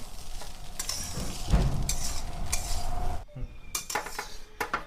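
A spoon scrapes and clinks against a pan while flattened rice pulao with ghee is stirred. The metallic taps and rustling scrapes come close and irregular, with no talking.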